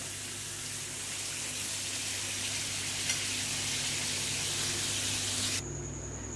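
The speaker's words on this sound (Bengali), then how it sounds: "এবার দিয়ে দেবো পরিমাণ মতন জল" Water is poured into a pan of sautéed vegetables, papaya among them, for a stew, a steady loud rushing hiss and sizzle that runs nearly six seconds and then stops abruptly, leaving a quiet hum and no speech.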